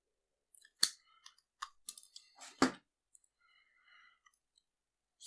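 Cutters snipping through electrical cable while repairing an Einhell Bavaria BAS 3.6 electric screwdriver: a few sharp, close clicks and snips with quiet gaps between, one stronger cut near the end.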